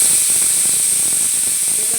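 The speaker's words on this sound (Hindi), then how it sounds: "देखो तो एक सीटी आ चुकी है" A pressure cooker whistle lets out a loud, continuous high-pitched hiss of escaping steam, sustained and close by.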